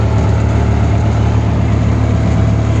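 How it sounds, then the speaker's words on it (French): A sailboat's engine runs under way in little wind, a loud, steady low drone that holds evenly throughout with no pauses. "le bruit qu'on entend, c'est le moteur parce qu'il n'y a pas beaucoup de vent"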